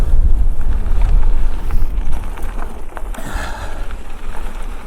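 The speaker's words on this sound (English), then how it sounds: "there's too much wind for it to carry, my voice to carry to the built-in microphone on the 360" Wind buffets the built-in microphone of a 360 camera mounted on a bicycle while riding, a loud, steady low rumble that swells and eases slightly.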